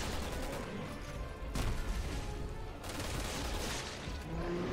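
Dense, continuous bursts of gunfire fill a Resident Evil 6 firefight, loud and sustained throughout with brief swells and dips in intensity.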